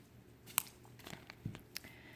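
Bead strand packaging being cut open and handled for a dragonfly bracelet kit: a few scattered crisp snips and crinkly plastic rustles, close and fairly quiet, with no talking.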